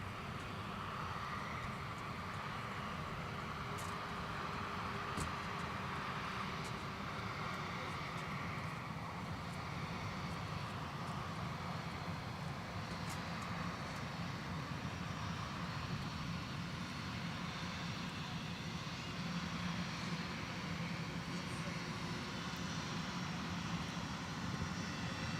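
Condor heavy jet aircraft at Minneapolis–St. Paul Airport, a steady broadband engine roar lasting throughout at moderate distance, with faint background noise and no speech.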